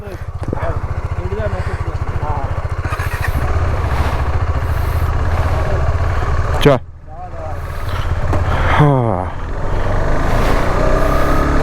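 A motorcycle on a road trip from Ratnagiri to Mumbai, its engine humming steadily near the microphone while people talk over it. Wind noise and the passing sounds of other vehicles come and go.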